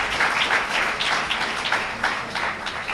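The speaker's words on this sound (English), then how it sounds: "Let's give Brother Akbar another well-deserved round of applause for his presentation." An audience applauding after a presentation, a steady crowd of hands clapping at close range with no voices, the applause holding for a few seconds.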